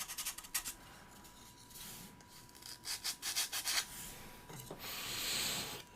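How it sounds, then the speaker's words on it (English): A 3D printed pinball part is sanded by hand, heard as quiet bursts of close scratchy rubbing strokes, some in quick rhythmic runs and others in longer sweeps. "that thing didn't come out without a fight, so it's going to need to be sanded"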